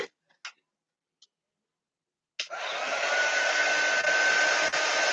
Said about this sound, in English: We're going to dry that up. Only takes about 3 to 5 minutes, but we're going to speed it up with our heat tool.